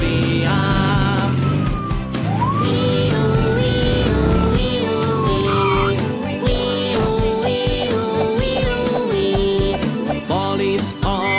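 Police car siren in a children's cartoon police game wails in rising and falling sweeps over constant upbeat game music and effects, loud and busy throughout with no talking.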